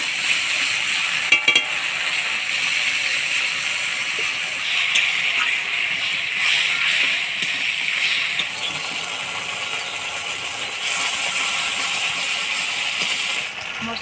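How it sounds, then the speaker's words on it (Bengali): Spice paste with salt and turmeric fries loudly in a pan, thinned with water rinsed from the spice bowl for a fish curry with potato and pointed gourd; a steady hiss and sizzle runs throughout, broken by occasional scraping stirs. "মশলাটা ভালো করে কষা নিলাম"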